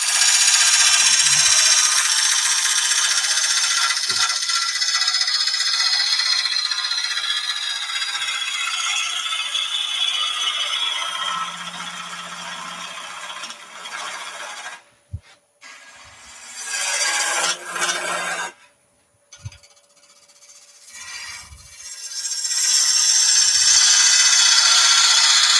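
A hollowing tool with its bevel rubbing cuts into spinning wood on a lathe, producing a continuous close scraping hiss that pauses and restarts midway before resuming at full strength.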